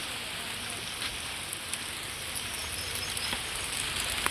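Steady, dense hiss of rain falling continuously, with a few faint drips and patters standing out against the wash.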